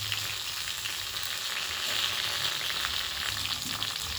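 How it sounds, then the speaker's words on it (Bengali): Thick drumstick stalks sizzle and crackle in a hot pan for pickle, a steady dense frying hiss that carries on without a break and with no talk over it. "এবার ডাঁটাগুলোকে খুব ভালো করে ভাজতে হবে।"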